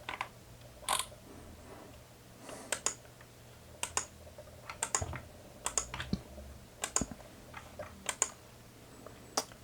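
Quiet, close clicking of typing on a computer keyboard, irregular bursts of keystrokes spread through the clip with no talk over it.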